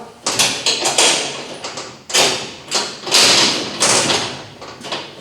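Heavy metal jail cell door at a historic county jail being shut and locked, heard as a series of loud clanking thuds and rattles spread across several seconds, close by with no talk.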